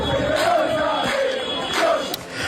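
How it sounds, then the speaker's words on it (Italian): Palermo football supporters chant together at a funeral, a loud, continuous crowd roar with rising and falling sung phrases carried by many voices. "i tifosi del Palermo gli hanno dedicato cori e striscioni"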